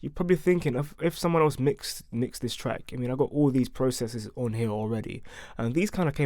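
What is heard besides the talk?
No everyday noises stand out.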